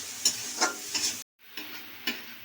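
A spice paste is stirred and fried in hot oil in a pan before lote (Bombay duck) fish goes in. A steady soft sizzle carries close spoon scrapes, with one brief silent gap and no voices.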